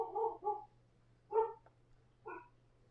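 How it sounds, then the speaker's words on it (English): A dog barks at a mail carrier: three short, separate woofs spread over a few seconds, nearby and fairly clear over a faint steady hum, with no talking. "was barking at the mailman."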